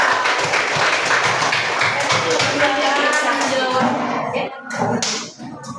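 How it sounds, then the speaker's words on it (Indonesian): Students in a classroom applaud their classmates, a loud, close burst of many hands clapping in quick rhythm that thins out toward the end, with a few voices mixed in. "Tepuk tangan untuk yang A"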